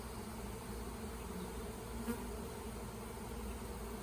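A dense, steady drone of a honeybee swarm of some 5,000 to 6,000 bees buzzing together, low and continuous, heard alone without any talking.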